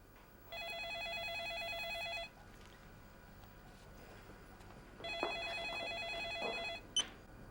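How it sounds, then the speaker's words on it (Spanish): An old-style telephone rings twice with a bright electronic trill, each ring lasting under two seconds and separated by a pause, fairly faint in a quiet room, followed by a brief clatter as the receiver is picked up. "Cada vez que suena el teléfono,"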